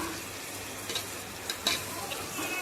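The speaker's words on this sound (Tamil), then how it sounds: "அதுக்கப்புறம் அரைச்சி எடுத்த இஞ்சி அதையும் சேர்த்து மிக்ஸ் பண்ணிக்கலாம்" Ground ginger paste is stirred into golden fried onions and sizzling mutton biryani masala, a constant close frying hiss broken by a few soft ticks of the spoon against the pan.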